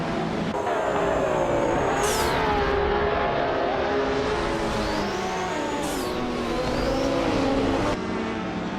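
Race cars, including a 1978 Porsche 935/78 on pole position, launch at the start at Brasilia Oval with loud, sustained engine roar, rising revs and gear changes, and cars sweeping past close by.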